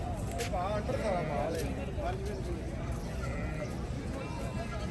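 Goat bleats at a livestock market in Lahore, several wavering calls near and mid-distance over steady crowd babble and people talking.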